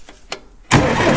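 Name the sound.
Farmall 350 diesel tractor engine cranking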